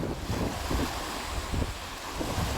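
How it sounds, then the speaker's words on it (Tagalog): Waves crash and surge steadily along the Manila Bay dolomite beach, a continuous loud wash of surf with rolling swells, mixed with wind buffeting the microphone and no voices. "parang nagagalit ang alon, no?"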